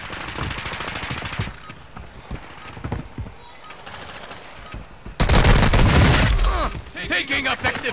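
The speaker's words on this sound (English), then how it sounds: "Taking effective fire." Shooter video game gunfire comes in bursts of rapid automatic shots mixed with scattered single cracks, then a loud sustained volley near the end.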